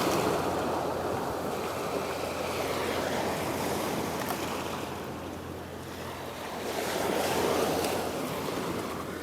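Sea waves wash onto a rocky coast in a steady, broad rush that swells and recedes, loudest at the start and end, with some wind on the microphone and no voices.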